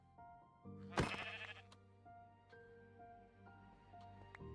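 A Minecraft sheep gives one clear, close bleat, followed by quieter game tones and soft chimes.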